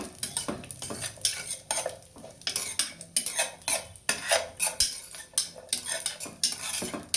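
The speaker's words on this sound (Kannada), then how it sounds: "ಗೋಡಂಬಿನ ತುಪ್ಪದಲ್ಲಿ ಸಪ್ರೇಟಾಗಿ ಹುರ್ಕೋತಾ ಇದ್ದೀನಿ" Cashews frying in ghee in a pan, mostly heard as a spoon clattering and scraping against the metal in quick, irregular strokes, close and fairly quiet, with only a faint sizzle underneath.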